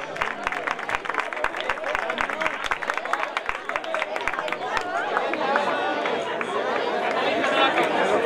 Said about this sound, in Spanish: Un aplauso para ellos tres.